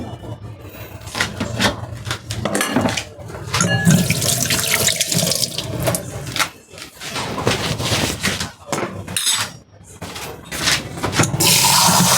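Water gushes from a kitchen tap into a pot while a fish, vegetable and noodle dish is being cooked, a loud continuous splashing stream with brief breaks as the flow shifts.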